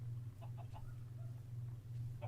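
Rooster clucks in the block-building survival game GT: New Horizons, several short clucks scattered over a steady low game hum and ambient drone.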